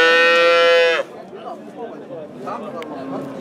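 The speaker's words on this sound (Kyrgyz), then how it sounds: "Шведский породадагы уй экен." A Swedish-breed cow gives one loud, close moo lasting about a second, followed by background chatter and livestock-market bustle.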